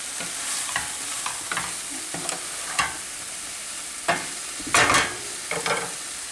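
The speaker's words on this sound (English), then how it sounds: "Okay, so now we're gonna add the beans." Cooked white beans tipped into a hot frying pan and stirred, with scattered scrapes and clacks of a utensil against the pan over a soft, steady sizzle, the strokes irregular and fairly close.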